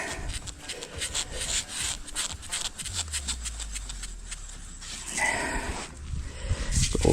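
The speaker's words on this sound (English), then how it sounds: "I use one of my rebar stakes. I go in on an angle as deep as I can get it, and then I just wobble it" A rebar stake is wobbled back and forth in an angled dirt hole while a trap set is prepared for fox and raccoon, giving close, scraping, grinding rubs of metal against soil with a low rumbling stretch in the middle.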